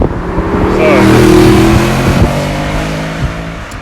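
Another car passes close by on the road, its engine revving loudly as it swells and then fades away, while someone talks over the noise.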